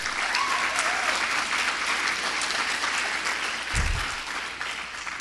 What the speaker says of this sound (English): let's give a nice round of applause for Senior King Jim Gall and Senior Queen Trudy